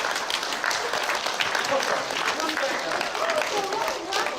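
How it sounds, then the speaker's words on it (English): Dense applause from a crowd at a school assembly, steady and fairly loud across the whole stretch, with faint voices mixed in. "Give her a big round of applause"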